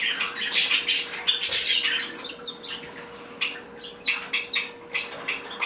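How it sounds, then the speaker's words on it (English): Pet budgies and a canary chirp and squawk in a cage, a busy flock of sharp, overlapping tweets and calls close by that rise in bursts and fill the whole clip, with no talking. "Oh, look at all the budgies."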